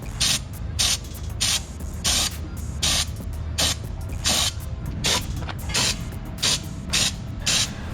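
A spray gun hisses in repeated short blasts, spraying Raptor bed liner onto Jeep parts, roughly one every half second to second, loud and close with a mechanical rattle between bursts.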